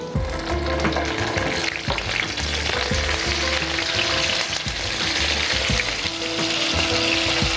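Onion paste frying in hot oil in a television kitchen, a steady loud sizzle with crackle throughout and occasional utensil knocks, no talking.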